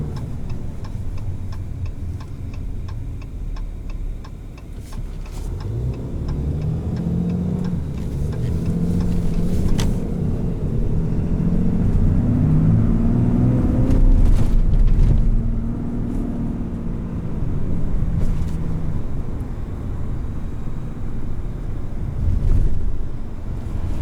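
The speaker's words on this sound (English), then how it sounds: "you feel the turbo start spooling up and you start to prepare for" A 2020 Ram 3500HD with a Cummins diesel pulls hard under acceleration from inside the cab, a deep engine drone building and swelling with turbo spool, steady and loud with wind rumble and no talking.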